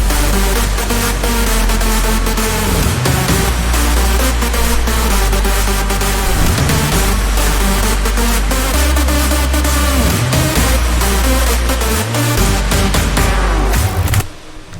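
A mainstage EDM track plays its full melody section, dense and loud throughout, with heavy pulsing bass, sharp clap hits and crowd effects, cutting off abruptly at the end.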